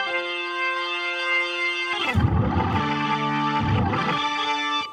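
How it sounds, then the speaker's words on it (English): Chords on a Vox Continental organ played through a Leslie speaker with distortion turned up, first a clean sustained tone, then gritty, saturated chords with a swirling rotary warble, loud and alone. "I can actually turn up the distortion a bit here."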